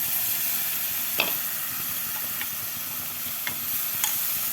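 Ground tomato hitting hot oil in a pan of rajma masala, a dense continuous sizzle with a few sharp spatters and pops standing out over the hiss.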